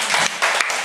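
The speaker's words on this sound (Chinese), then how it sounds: "同意好，掌声鼓励，谢谢。" Sixth-grade classroom applause for a student's answer in a cooperative learning lesson, a short burst of clapping in a few pulses with no talk.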